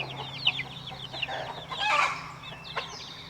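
Chickens cluck and chirp near their chicks in a backyard coop, a close, busy chorus of short calls and a few sharper squawks, with no talk over them.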